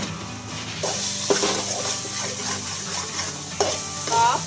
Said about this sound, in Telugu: బాగా ఫ్రై చేసుకోవాలి ఇలాగా